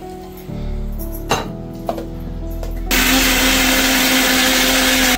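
A kitchen mixer grinder grinds a vatan spice paste with tamarind. A few clinks and knocks of the jar come first, then the motor roars up loud and steady, droning close until the end.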